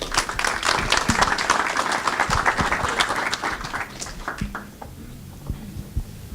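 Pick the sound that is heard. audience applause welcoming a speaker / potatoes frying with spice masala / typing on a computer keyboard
audience applause welcoming a speaker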